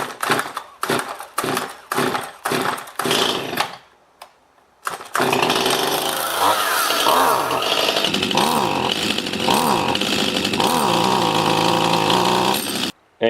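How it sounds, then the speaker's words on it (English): A Stihl chainsaw with a faulty carburetor sputters through several short pull-start bursts, then runs with an uneven, wavering engine note that bogs, hesitates, surges and dips. "start it up so that you can hear the symptoms."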